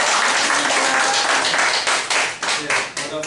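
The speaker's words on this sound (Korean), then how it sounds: "우리 교수님 박수로 환영합시다." Indoor lecture audience claps in welcome for a visiting professor, a loud dense burst of applause that thins and fades out in its final second.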